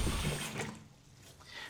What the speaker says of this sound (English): Now, I'm gonna fill it up with hot water.